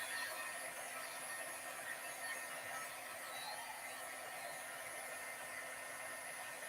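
A heat tool blows a steady, even whoosh over a card with freshly blended ink, a constant airy hiss with no breaks, fairly faint and alone.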